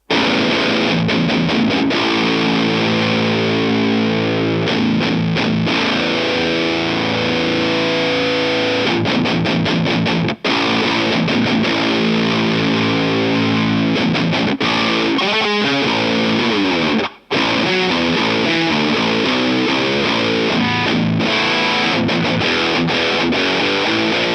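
Electric guitar through a Lichtlaerm Audio Medusa death metal distortion pedal at full setting chugs and rings out thick, saturated chords, loud and continuous, with a couple of brief cutoffs.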